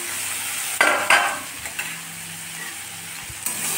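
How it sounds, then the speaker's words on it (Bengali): Spices for a jackfruit-seed fish curry sizzling in a hot pan, a steady close frying hiss punctuated by a few louder stirring scrapes. "মশলা ভাজা ভাজা হয়ে গেছে"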